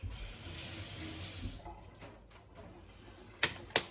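Tap water runs steadily into a sink while a carrot is rinsed for nasi goreng, a broad hiss that thins after a couple of seconds, followed by three sharp clicks or knocks near the end.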